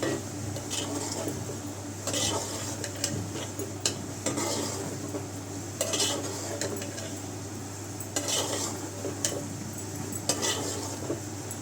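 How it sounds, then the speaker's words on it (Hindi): A spoon scrapes and clinks against a pan while prawns cooked with poi saag are stirred, with soft sizzling underneath and repeated metallic knocks spread across the stirring. "तो इसको मिक्स कर लेती हूँ"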